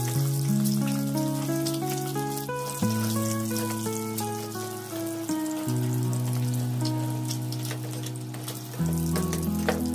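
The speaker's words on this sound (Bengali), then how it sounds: "লঙ্কা পাউডার আর হলুদ দিয়ে ডিমটা ফ্রাই করব" Eggs fry lightly in oil with chili powder and turmeric for an egg masala. A steady crackling sizzle runs throughout beneath loud, melodic background music.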